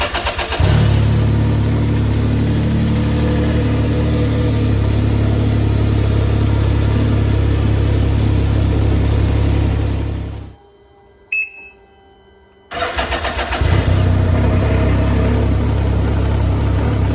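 A Can-Am Ryker fitted with a K&N performance air filter cranks into life and revs loudly close by, its engine roaring steadily before cutting out abruptly, a brief lull with faint ticks, then firing up and revving again.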